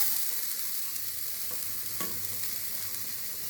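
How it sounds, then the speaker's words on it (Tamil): Grated coconut is dry-roasted in an empty pan with a soft, steady sizzling rustle as it is stirred, with one light utensil tap midway and no one speaking. "தேங்காவை வெறும் சட்டியில் வதக்கிக்கணும்"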